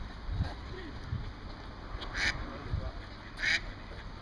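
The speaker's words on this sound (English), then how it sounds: "Has anyone got a biscuit for the ducks?" Ducks quack in short bursts at a lake in Scotland, with a few brief calls standing out over outdoor background noise and talk nearby.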